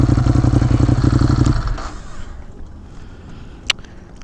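Ducati Monster 821 motorcycle engine idling loud and close with a steady throb while parking, then cutting off into quiet with one sharp click.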